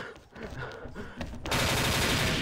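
Gunfire in the online shooter XSHOT starts as scattered shots, then swells into a loud, unbroken automatic barrage that fills the second half.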